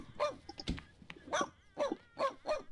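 A dog in The Sims 2 video game barks and yips in short bursts. A player talks between the calls.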